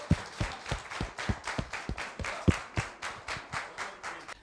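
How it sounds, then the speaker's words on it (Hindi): Slow, evenly spaced claps from a small meeting audience, about four per second and fairly close, giving a rhythmic unison clapping that keeps a steady beat with no talk over it. "बहुत ज़्यादा तालियों के साथ स्वागत"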